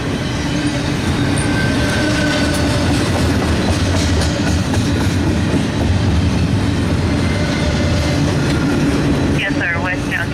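A Norfolk Southern freight train led by a GE C40-8W locomotive rumbles past at close range, a steady loud roar of engine and rolling wheels with faint clatter throughout, a brief squeal near the end, and radio talk over the top.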